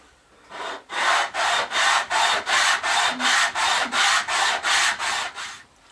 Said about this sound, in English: Once you get it cut, give it a good sanding